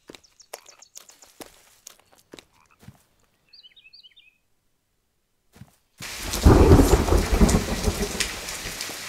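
Sudden heavy rain begins in a forest, a dense, loud hiss of falling drops that takes over after scattered quiet footsteps and rustles.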